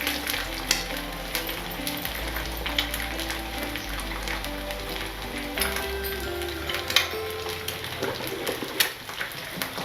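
Double egg chicken fried rice sizzles steadily in a pan, with repeated scraping and clinking from stirring over a continuous crackling fry.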